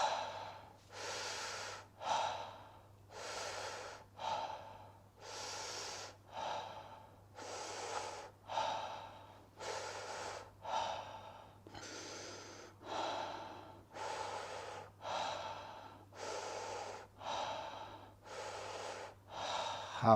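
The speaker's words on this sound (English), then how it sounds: "And we start breathing again." Deep, rhythmic breaths during a breathwork exercise: about sixteen strong inhale-exhale cycles follow one another steadily, close and clear against a quiet background.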